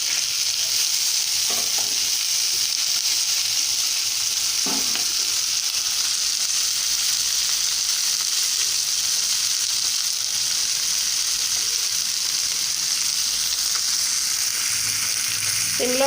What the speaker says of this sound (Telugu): చూడండి చేపలు ఎలా వేగుతున్నాయో చూడండి.